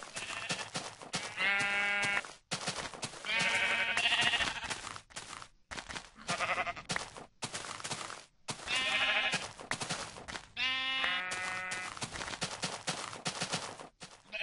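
Sheep in Minecraft bleating repeatedly, four or five distinct loud bleats spaced a few seconds apart over a quieter background rustle, with no talking.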